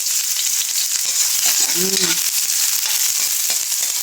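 Onion sautéed in a pan with browned garlic crackles in a loud continuous sizzle with sharp popping ticks. A brief murmur of voice surfaces midway.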